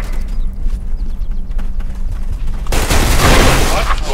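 Gunfire in the online shooter Special Force 2: a muffled stretch of distant shots gives way to a loud, dense burst of firing and explosions near the end.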